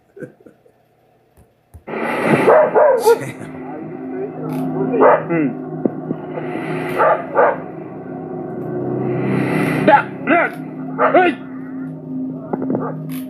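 A frightened dog yelps and whimpers in strange night footage, with rapid irregular high cries and barks, close and loud, over a steady background hum.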